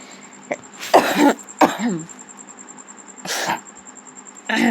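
Someone with a cold coughs repeatedly at close range, with four loud, harsh bursts spaced a second or two apart over a faint background hum.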